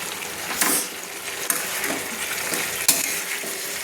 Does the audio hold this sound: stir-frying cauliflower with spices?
yes